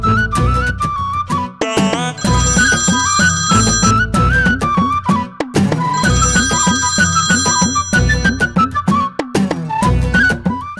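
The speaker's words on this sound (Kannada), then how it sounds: "ಇವರಕ್ಕಪ್ಪ ಫೋನ್ ರಿಸೀವ್ ಮಾಡ್ತಿಲ್ಲ." A melodic mobile phone ringtone plays loudly and continuously while an incoming call goes unanswered, its tune repeating in bright, chiming phrases with no one speaking.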